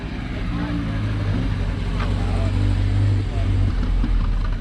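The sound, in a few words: BMW 2002 car rolling up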